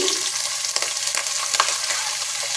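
Asafoetida, curry leaves and cut green chillies sizzle in hot oil for semiya upma, a bright, continuous close hiss with a few spoon scrapes and pops, no voices.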